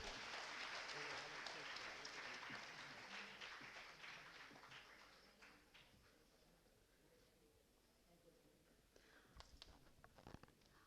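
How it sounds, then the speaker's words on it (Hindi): Clapping fills the hall as someone is honoured at a Hindi literature conference, loud at first and gradually thinning to a few scattered claps and sharp knocks near the end, with speech underneath. "जोरदार तालियों से"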